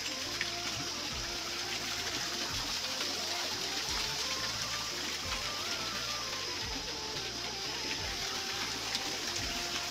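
River water flows steadily at a spot where animals come to drink, a constant close rushing and gushing with no pauses and no voices.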